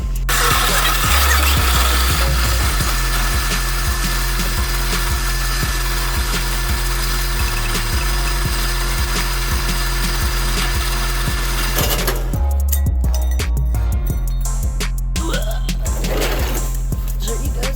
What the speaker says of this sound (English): Clean them up on the sanding disc